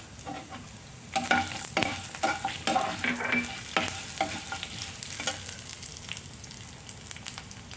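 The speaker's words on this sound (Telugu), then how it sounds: "ఎండుమిర్చి కూడా వేసి వేపుకుందాం అలాగే వెల్లుల్లిపాయలు వేసుకుందాం" Dried red chillies and garlic fry in a pan along with coriander seeds for a dry prawn powder, with a crackling sizzle, repeated spatula stirring clatters and a moderate, close hiss.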